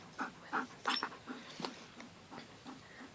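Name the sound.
Alaskan Malamute dog whimpering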